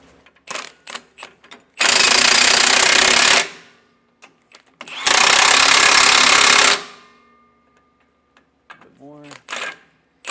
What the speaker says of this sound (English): I'm going to snug these down with my impact just a bit